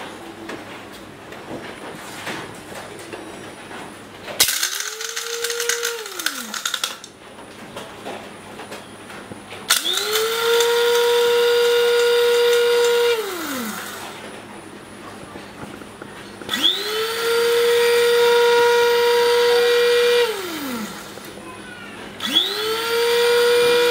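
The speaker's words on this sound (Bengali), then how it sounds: "এগুলো এখন আমি ব্লেন্ডারে দিয়ে এগুলোকে আমি পাউডার করে" Kitchen blender grinding goat deworming tablets (boluses) into powder, running in four loud motor bursts with a whining spin-up and spin-down each time, separated by short quieter pauses, no talking.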